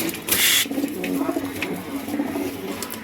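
Pet pigeons scuffle and coo, low cooing calls running under a sharp burst of flapping or scuffling noise near the start, close by.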